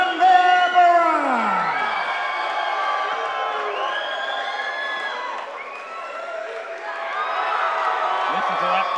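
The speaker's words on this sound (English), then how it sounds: "Listen to that crowd behind Tanvir." A fight crowd at an MMA-style event cheers, whoops and bellows loudly and continuously for nine seconds after a rear naked choke win, the roar swelling at the start and rising again toward the end.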